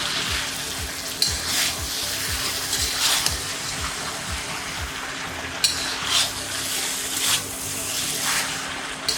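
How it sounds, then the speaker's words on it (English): Chow mein noodles with oyster sauce sizzle and fry in a hot wok as they are stirred, with repeated scraping and tossing bursts over a steady loud hiss. "bring the heat back up and then we're gonna begin to actually stir the wok"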